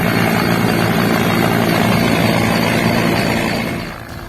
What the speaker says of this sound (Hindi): हेलीकॉप्टर से रेस्क्यू की ये तस्वीरें मध्य प्रदेश से आई हैं।